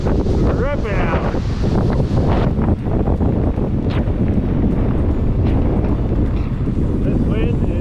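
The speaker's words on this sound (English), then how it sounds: "This is the gale force wind warning they've been talking about." Gale-force wind on a stormy coast roars continuously and loudly, buffeting the microphone with heavy rumbling gusts while a man calls out over it.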